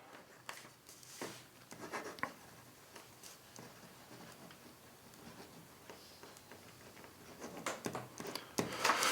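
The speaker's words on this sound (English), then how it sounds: "let me write a note to you guys who know how to read cursive" A Zebra X701 pen writes cursive on paper with soft, close scratching strokes and light taps, quiet and intermittent, growing busier toward the end.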